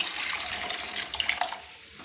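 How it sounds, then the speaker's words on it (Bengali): Water is poured into a pan of rui posto, a rohu fish curry in poppy seed paste, making a short, close, splashy trickle that lasts about two seconds. "দেখুন আমি একটু জল দিয়ে দিলাম"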